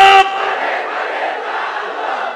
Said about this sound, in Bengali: জোরে তাকবীর হবে, নারায়ে তাকবীর, লিল্লাহি তাকবীর